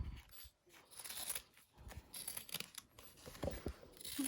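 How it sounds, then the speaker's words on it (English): Scissors trimming excess fabric lining around a freshly sewn seam on a small ID wallet pouch: close, repeated snipping and crisp fabric-cutting sounds in uneven bursts, with no voices. "Scissors. So we're going to trim down the excess lining around where we've sewn."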